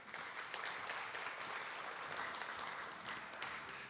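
Audience applause at a Korea University anniversary ceremony: a continuous wash of many hands clapping, fairly distant and soft, with no voices over it.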